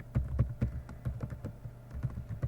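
Rapid, uneven keystrokes on a computer keyboard while code is typed, quiet, close clicks coming in quick bursts with short pauses between them.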